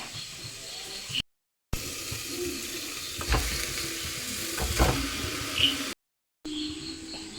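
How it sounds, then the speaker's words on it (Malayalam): Half a kilo of chicken sizzles in a pan for a curry, a steady frying hiss with clattering stirs and scrapes, briefly cut by two short silent gaps. "ഇനി നമുക്ക് ചിക്കൻ ഇതിലേക്ക് ഇടാവുന്നതാണ്."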